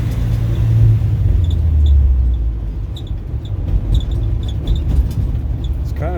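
Saab 96 Deluxe with a V4 engine picking up speed from a coast at low revs, a steady close engine rumble with road noise swelling and settling, a few faint high ticks scattered over it.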